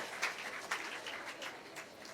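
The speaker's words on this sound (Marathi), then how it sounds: "टाळ्या वाजवा रे" Audience applause at a Prabodhan Vichar Manch and Yuva Manch gathering, a steady wash of many hands clapping with a few louder bursts, continuing throughout.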